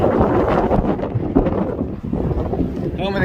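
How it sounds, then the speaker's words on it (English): Strong wind buffets the microphone on the Outer Banks coast near Buxton and Cape Hatteras, a loud continuous roar and rumble with gusty swells filling the whole stretch. "It is incredibly windy though"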